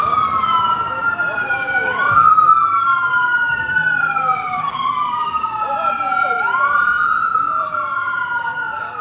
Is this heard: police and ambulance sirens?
yes